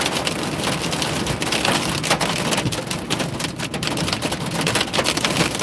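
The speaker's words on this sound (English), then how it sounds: "It's extremely heavy rain and hail." Extremely heavy rain mixed with hail pounds down in a storm near Manhattan's Vista, a dense, continuous roar of drops and pelting ice that stays loud and close throughout.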